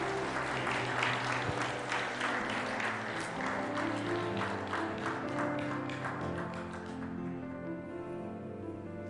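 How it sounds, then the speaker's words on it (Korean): A church congregation applauds during a Sunday dedication service, warm sustained clapping filling the room evenly for several seconds before fading near the end. "네, 뜨거운 박수로 격려해 주시기 바라겠습니다."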